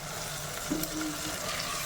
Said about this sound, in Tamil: இப்போ புளி கரைச்சல் ஊற்றியாச்சு.